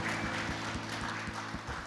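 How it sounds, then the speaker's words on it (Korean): A church congregation claps in praise to God, a dense and continuous wash of applause with a faint rhythmic beat running through it. "하나님께 박수로 영광 돌리겠습니다"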